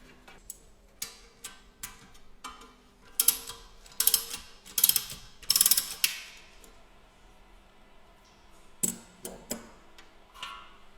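A hand knockout punch cutting 22.5 mm holes in a metal control panel, heard as close, sharp ratcheting clicks and creaks in irregular bursts with quiet gaps between turns.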